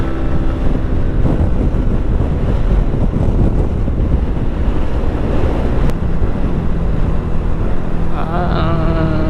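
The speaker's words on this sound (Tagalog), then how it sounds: "Lakas ng hangin!" Strong wind buffets the microphone in a continuous loud roar, rumbling and gusting for the whole stretch, with a brief voice near the end.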